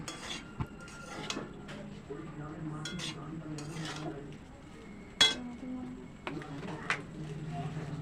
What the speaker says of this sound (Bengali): অ্যাড করে এবার আমি এটিকে ভালো করে নেড়ে নেব।